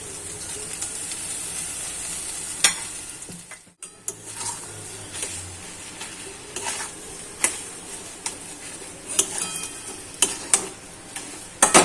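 Soybean chunks for Bengali soybean chops frying in a pan, a steady sizzle with scattered ticks and stirring clicks, briefly dropping out as the pieces go in, then crackling on with sharp spatters.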